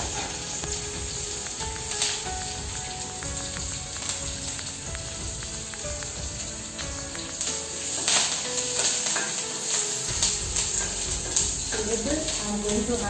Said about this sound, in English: I added 3 red chilies. So with this I am adding the curry leaves.